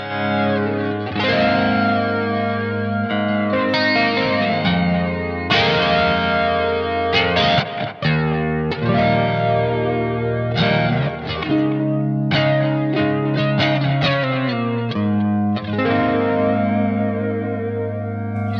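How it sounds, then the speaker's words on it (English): An electric guitar is played through a Blackstar AMPED 2 with a chorus flange effect, producing swirling, shimmering strummed chords and single notes. The playing is loud, continuous and heard alone. "that's the chorus flange. It's not as intense and as sharp as a phase sound."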